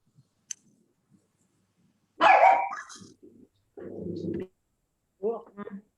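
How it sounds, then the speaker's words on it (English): A dog barks several times in the background of a quiet indoor setting, a few separate sharp barks with gaps between them and faint small noises before, no words spoken. "Lucia's dog in the background"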